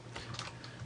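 Keys clicking on a computer keyboard as a line of text is typed into a banner design layout, quick soft taps in a short burst, close and fairly quiet with no voices.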